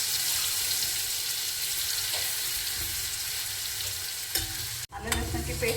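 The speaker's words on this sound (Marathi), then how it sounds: "आलं लसणाची पेस्ट तेलात होऊन द्यायची थोडी." Ginger garlic paste fries in oil for a capsicum dish, giving a constant close hiss and sizzle with light stirring scrapes, then a short break and a clatter at the end.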